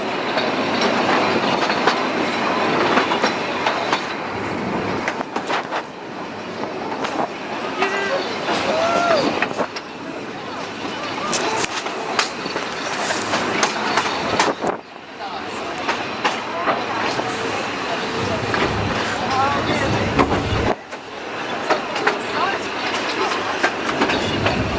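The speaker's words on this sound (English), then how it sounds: "They're riding on the train, the Puffy Billy." The Puffing Billy steam train in Australia rolls steadily along the rails with a continuous rumble and clatter, occasional faint squeals, and voices murmuring in the background.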